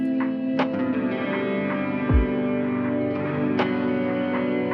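A sustained, shimmering reverb wash hangs continuously, with new plucked notes entering and blending into the long, unending tail.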